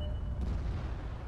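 Tank cannon fire during a World of Tanks battle, a heavy low boom filling the short moment with rumbling battle noise, loud and close, no voices over it.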